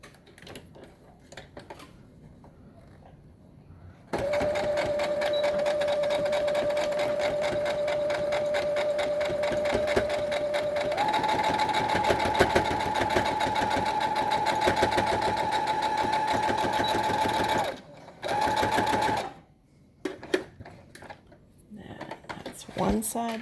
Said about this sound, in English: go to your sewing machine,